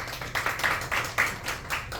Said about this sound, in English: And clap if you think it was Ann who's won.